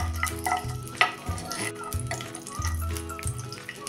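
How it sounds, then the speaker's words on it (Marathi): Cashews frying in a mix of oil and ghee in a pan over a low flame, giving a steady close sizzle with occasional stirring clatter and scraping knocks. "आणि ह्या तेला तुपावर आपण आता हे काजू पहिल्यांदा परतून घ्यायचे आहेत।"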